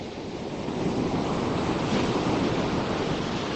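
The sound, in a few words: sea waves coming in on England's south coast beach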